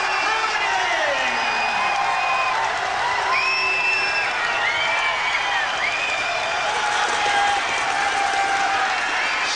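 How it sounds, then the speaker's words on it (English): A boxing arena crowd gives challenger Jess Harding a prolonged standing ovation, with sustained loud applause, whoops and cheers filling the hall from start to finish, mixed with a continuous murmur of voices. "And a prolonged applause for him."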